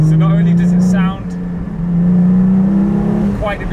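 Porsche 718 GT4 with a new titanium exhaust on its naturally aspirated engine, a loud deep drone with pitch swells and dips as the revs change, close and dominant.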